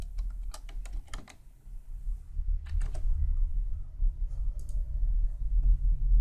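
Code being typed on a computer keyboard: bursts of quick, close key clicks in short runs separated by pauses, over a low background hum.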